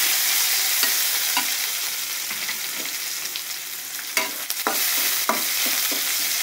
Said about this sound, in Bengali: আমরা অর্ধেকটা পরিমাণে পেঁয়াজ কুচি দিয়ে দেব।